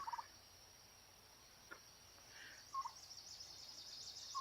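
Turkeys gobble faintly and at a distance while a tom struts during mating, with a few short calls rising over a quiet outdoor background.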